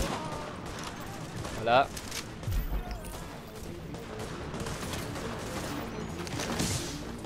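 Gunfire from Tom Clancy's The Division, a busy game soundscape of scattered shots and a louder burst under steady background noise, with someone speaking briefly.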